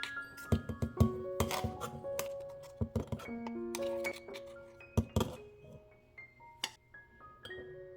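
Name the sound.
transferring chutney premix into a glass jar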